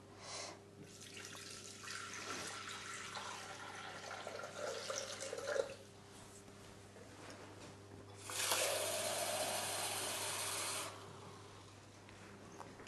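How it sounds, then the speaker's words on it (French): Water poured into a Thermomix bowl, a faint splashing, trickling stream heard in two bursts, the second brighter and steadier, close by with quiet gaps between. "ils me disent de mettre 800 grammes d'eau dans le bol du Thermomix"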